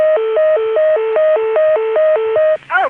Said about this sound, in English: Let's hear the deedle in 480.